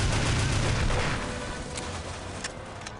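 Continuous loud automatic gunfire with regular rounds in the video game Alien vs Predator 2, a dense, unbroken roar of rapid shots lasting the whole stretch with no pauses.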